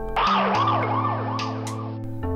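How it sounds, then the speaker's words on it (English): An ambulance siren wails loudly in rapid rising and falling sweeps, and its pitch drops partway through as the vehicle passes and pulls away, a clear Doppler shift with no voices. "The sound of the ambulance's siren is high-pitched. But as the ambulance passes you and starts to recede, the sound changes to a lower pitch."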